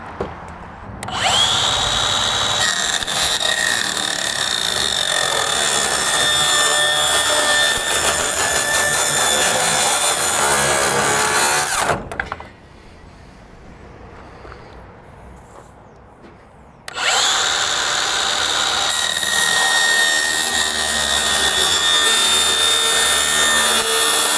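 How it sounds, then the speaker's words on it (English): A circular saw cuts wood in two long, loud, steady passes, with a whining motor and the grinding rasp of the blade, separated by a few seconds of quieter running and low background noise. "I got a circular saw"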